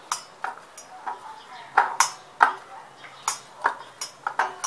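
Chicken leg pieces tossed with roasted cumin and garam masala in a bowl, a utensil knocking against the bowl in a steady series of sharp clicks and taps, close and moderately loud.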